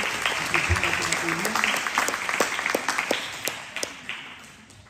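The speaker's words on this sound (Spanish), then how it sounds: "demos un aplauso de bendición para este momento" Applause from guests at a fifteenth birthday celebration, steady clapping sustained across the moment and fading slightly toward the end, with a voice speaking over it.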